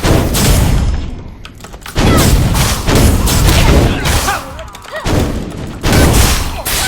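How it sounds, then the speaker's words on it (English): Fireballs cast by a Force Master in Blade and Soul land as a string of heavy thumping blasts. Several loud bursts break up a dense, crackling mix of combat noise. "Shoot little fireballs at them."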